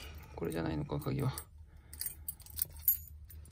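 A quiet voice speaks briefly, then a bunch of car keys for a 1960 Chevrolet Bel Air jingles and clinks in short bursts close by.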